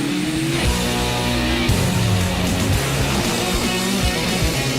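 A car weaves between cones, its engine revving loud and near with tires squealing as it turns, a constant roar with no voices over it.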